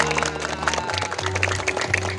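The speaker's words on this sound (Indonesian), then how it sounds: "Ya, boleh tepuk tangan semuanya." Elementary schoolchildren applaud at an official visit. Scattered, continuous clapping runs throughout, with a low steady hum and some background voices under it.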